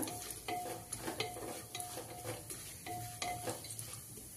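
Chopped almonds and cashews roast in a pan for wheat lapshi, a constant faint sizzle under repeated stirring strokes and light spoon scrapes against the metal, with no voices.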